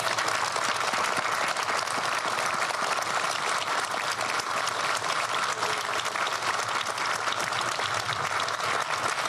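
Applause fills a town square as a crowd including schoolchildren claps steadily, a continuous dense patter that stays even and sustained throughout, moderately loud and without pauses.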